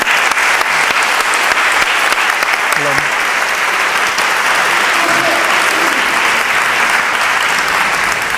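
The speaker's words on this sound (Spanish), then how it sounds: "Un aplauso, por favor." Loud, sustained applause from a seated audience at a talk on integrative medicine, an even roar of clapping throughout with faint voices mixed in underneath.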